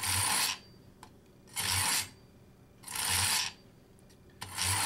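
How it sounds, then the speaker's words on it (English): Knife drawn through the small-wheel second stage of a Chef's Choice Edgecraft sharpener, making four separate raspy grinding strokes at a steady pace, each about half a second long with brief quiet gaps between them. "You just take the knife, hits the small wheel right there, and just pull back gently."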